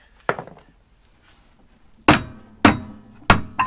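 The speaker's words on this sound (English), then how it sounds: "I normally have to hit it with a hammer or something" A hammer strikes a coil spring part on a VW Transporter T5. There is one sharp metallic blow, a pause, then three more loud clanging hits at a steady pace, each leaving a short ringing decay.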